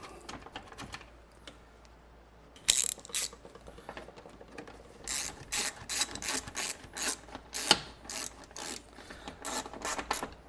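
A ratchet snugs up two top bolts while fitting a timing belt on a 2005–2012 Subaru: bursts of quick clicking at close range, with irregular gaps between runs and no talk.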